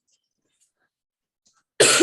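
A single sharp cough bursts out at the very end after near silence, close and loud, in a recorded lecture on notarial and registry law.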